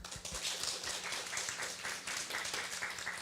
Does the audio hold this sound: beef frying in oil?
no